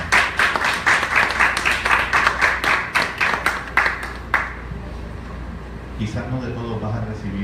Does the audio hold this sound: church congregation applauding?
yes